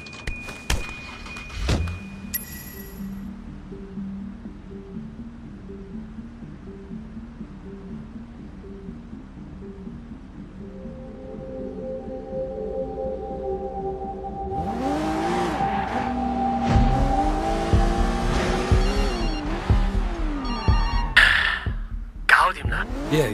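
A car driven in the video game Sleeping Dogs, its engine droning steadily and then climbing in pitch as it accelerates, with game sounds and voices mixed around it.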